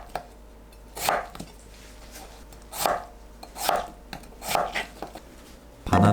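Potatoes cut into 1.5 cm cubes with a kitchen knife, five sharp chops on a board spaced about a second apart, close and clear over a quiet room, ending in a louder clatter.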